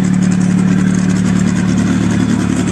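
A four-cylinder Audi S3 engine drones steadily and loud at close range at a street drag race, holding a constant idle-like tone without clear revving.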